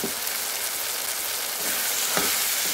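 Peas and carrot for a vegetable kurma frying in a pan, a steady close sizzle with occasional scrapes and clicks of a spoon stirring through them.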